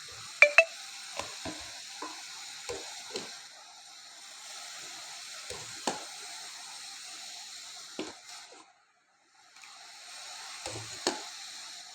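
Dal ladled onto three plates of rice, giving soft wet splats and scrapes of a spoon in short separate bursts over a faint steady hiss, with a brief silent gap near the end and no talking.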